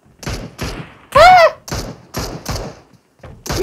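Gunfire from the PUBG Mobile battle royale game, a series of sharp separate shots in an uneven rhythm, loud and close, with players talking over it.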